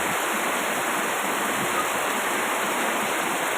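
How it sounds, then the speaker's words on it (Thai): Heavy rain pours down in a steady, loud, unbroken wash, with no voices heard over it. "อีกแล้วนะคะฝนตกหนักมากเลยนะคะ"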